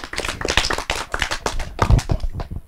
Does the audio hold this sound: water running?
no